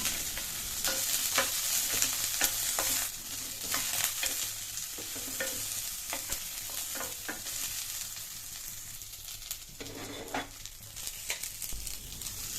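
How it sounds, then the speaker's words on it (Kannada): Onion and other ingredients roast in a spoonful of oil for a hotel-style cauliflower gravy, giving a close, steady sizzle broken by repeated stirring scrapes and clinks throughout. "ಸ್ವಲ್ಪ ಒಂದು ಸ್ಪೂನ್ ಆಯಿಲ್ ಹಾಕ್ಕೊಂಡು ಸ್ವಲ್ಪ ರೋಸ್ಟ್ ಮಾಡ್ಕೊಬೇಕು"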